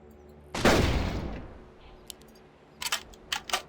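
A single sharp gunshot rings out in Carnivores World, fired at a Coelophysis, then decays into a fading tail, followed by a few faint mechanical clicks and ticks.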